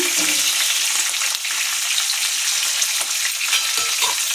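Green chillies and onions fry with urad dal in a hot pan, giving a loud, dense, continuous sizzle up close with a few stirring clicks. No speech is heard.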